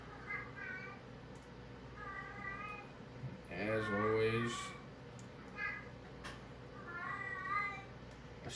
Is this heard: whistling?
no